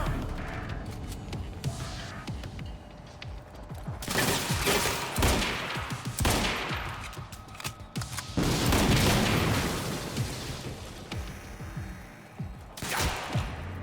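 Shotgun fire from enemies in the video game Quantum Break, heavy booming blasts in irregular bursts with crashing impacts, some loud and close, others fainter between quieter stretches.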